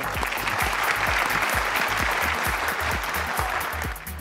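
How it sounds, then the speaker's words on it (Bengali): A studio audience at a Bangladeshi family reality show claps in a dense, continuous burst of applause that stays loud and even for several seconds before easing off. "একটা জোরে করতালি হবে।"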